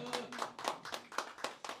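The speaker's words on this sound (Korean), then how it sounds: "저도 박수 한번 치겠습니다." At a church council policy forum, hands clap in a quick, even rhythm of about seven claps, fairly faint and distant.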